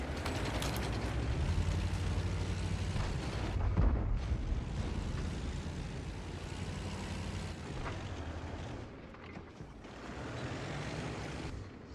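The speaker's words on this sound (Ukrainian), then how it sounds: "Постріл. Броня пробито." A tank's main gun fires in a video game, a heavy boom standing out near the middle amid continuous mechanical engine rumble and clanking, with lighter thuds later.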